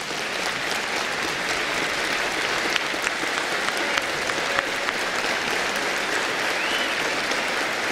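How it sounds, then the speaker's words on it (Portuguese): A standing audience applauds at a solemn political session marking a party anniversary, with continuous, dense, even clapping and occasional sharper claps throughout. "Eu peço aos senhoras e senhores que de pé aplaudam esses republicanos de valor."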